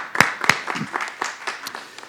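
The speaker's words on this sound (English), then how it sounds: "Give you a big round of applause." Audience applause at a conscious leadership and ethics summit panel, a few separate sharp claps at first, then sparse, uneven clapping continuing at moderate loudness for about two seconds.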